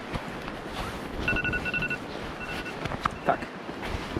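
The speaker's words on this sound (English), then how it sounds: "oh, that's my alarm" A faint phone alarm tone beeps in short repeated bursts over outdoor wind and background noise at a Pacific Northwest camping and fishing spot.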